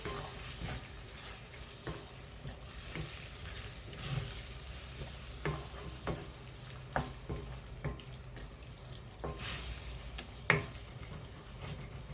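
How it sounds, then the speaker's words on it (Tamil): Chicken pieces in masala gravy sizzle and fry steadily in an open frying pan, with a continuous close hiss broken by scattered clicks and stirring scrapes. "நான் இன்றைக்கி குக்கரில் வேக வைக்கல ஜஸ்ட் இந்த பேன்லேயே தான் வேக வச்சுட்ருக்குறேன்"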